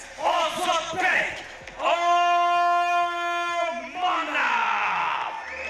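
A fight-event crowd roars and cheers for fighter Ozodbek Omonov, loud bursts of yelling and whooping that swell, hold, then rise again, with a sustained shout ringing through the middle and an announcer's voice mixed in.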